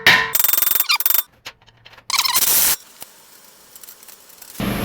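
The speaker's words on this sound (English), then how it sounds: "you can just hold on to the axle and pull back on it. And just tap on your rotor." Hammer tapping on a car brake rotor to free a stuck axle during a strut conversion on a 2007-2013 Acura MDX: a few short bursts of sharp metallic knocks separated by quiet gaps in a garage.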